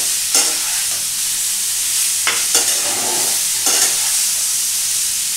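Paneer salsa frying in a pan, a steady loud sizzle with a spatula scraping and stirring in a few sharp strokes, close up and without talk.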